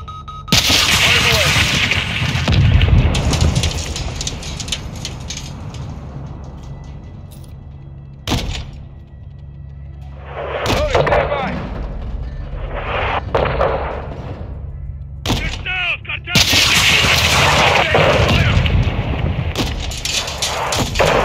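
Heavy artillery fire booms through a Call of Duty Modern Warfare 2 battle scene, with loud blasts, sharp gunshot cracks and rumbling between bursts, while radio voices speak over parts of the barrage.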